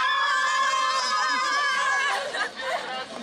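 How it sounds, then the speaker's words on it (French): A crowd at an exam results announcement in Côte d'Ivoire shouts and cheers for joy, a dense, loud mass of overlapping high voices and squeals that thins out slightly toward the end. "Cris de joie et satisfaction chez certains admis."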